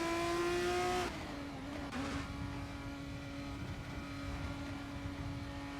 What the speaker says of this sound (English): The car is just passing through turn 4 for the first time since returning